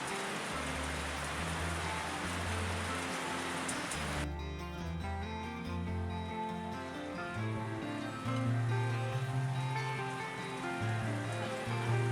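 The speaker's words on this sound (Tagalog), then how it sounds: "Baka butan ako ng ulan." Steady rain pattering on a surface, dense and continuous, with a low rumble underneath; the hiss changes texture partway through.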